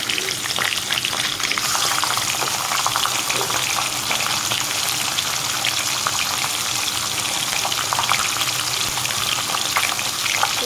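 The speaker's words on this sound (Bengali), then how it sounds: "এখানে আমার তেলটা গরম হয়ে গেছে দিয়ে দিব মাছের মাথাটা প্রথমে মাছের মাথাটা আমি ভাজা করে নেব" A fish head frying in hot oil gives a loud, continuous crackling sizzle that stays dense and even from start to finish, with no voices over it.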